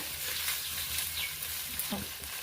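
Fish curry ingredients with turmeric fry in a pan over high heat, giving a steady, close sizzle that continues without pause for a few seconds.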